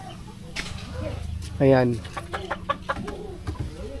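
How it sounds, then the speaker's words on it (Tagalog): Chickens on a farm cluck and squawk close by, with one louder burst of clucking in the middle, while someone talks over the birds. "maraming mga manok dito guys"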